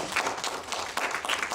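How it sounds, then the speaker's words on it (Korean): Church congregation applauding during a sermon, a dense, steady wash of clapping from a fairly close crowd that holds at an even level for the whole stretch, with no clear voice on top. "박수 칠만한 일이죠"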